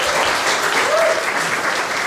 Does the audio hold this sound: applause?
yes